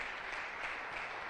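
A church congregation applauding during a sermon, a steady, fairly faint patter of many hands clapping together, continuous and without voices.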